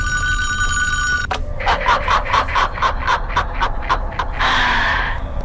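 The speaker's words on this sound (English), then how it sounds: "Somebody answer the phone!" A telephone rings in the video game Friday the 13th, its bright trill cutting off after about a second, followed by a quick series of short rhythmic chirping bursts and a brief noisy rush near the end.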